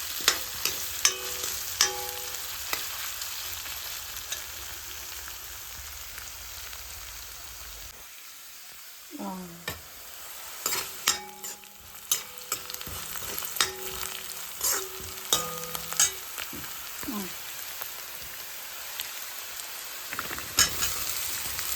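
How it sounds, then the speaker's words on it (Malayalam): Pork roast mixture with coconut pieces is sautéed in a pan, giving a quiet continuous sizzle broken by repeated scraping and stirring clicks from a utensil, with a short pause midway before the stirring resumes. "ഇത് നന്നായിട്ട് വഴറ്റണം. ഇച്ചിരി തേങ്ങാക്കൊത്തൂടി ഞാൻ ഇട്ടിട്ടുണ്ട്."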